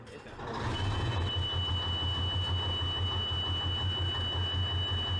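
A heavy Sherman tank engine rumbles steadily with a low throbbing pulse, joined by a thin high whine that holds throughout.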